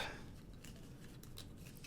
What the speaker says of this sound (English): and we'll shuffle up our deck.